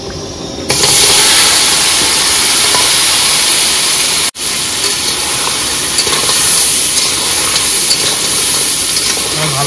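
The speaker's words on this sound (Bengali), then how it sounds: "বন্ধুরা কড়াইতে তেল দিয়েছি, গরম হয়েছে, এবার কাঁকড়াগুলো দিয়ে দেবো সব।" Crabs dropped into hot oil in a wok while cooking on a boat, a loud, steady sizzling hiss that starts suddenly, breaks off for an instant, then carries on unbroken and close.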